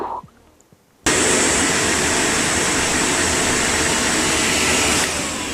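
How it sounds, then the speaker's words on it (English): A vacuum cleaner switches on abruptly after a quiet moment and runs with a loud, steady roar that holds for several seconds before easing slightly at the end, with no talking. "It is a vacuum cleaner."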